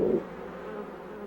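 Honeybees crowding together inside their hive give off a steady, close insect buzz, slightly louder at the very start and then holding an even, low drone throughout.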